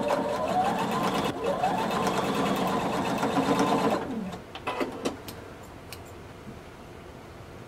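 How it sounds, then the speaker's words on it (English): A sewing machine basting across the shoulder and neck of a blazer runs in a loud, fast, steady buzz for about four seconds, then stops, followed by a few quieter clicks and handling sounds. "I'm gonna have you baste across the top of the shoulder, and then we're going to baste across the neck and then down the other shoulder."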